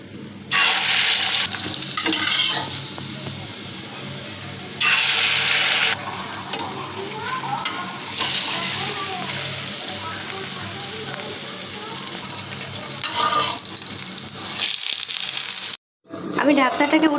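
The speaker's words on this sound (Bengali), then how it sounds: "এরকমভাবে বন্ধুরা আমি সবগুলো ডিম ভেজে নেব।" Eggs fry in a pan of oil with a continuous close sizzle, louder bursts as they are turned and stirred, while a person talks over the cooking.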